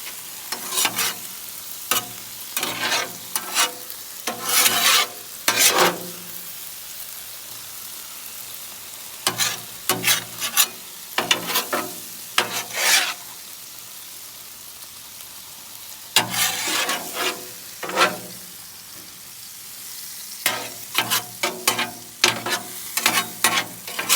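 Beef lo mein stirred and frying on a Blackstone griddle: bursts of scraping spatula strokes and clattering over a steady close sizzle, in uneven clusters with brief lulls between.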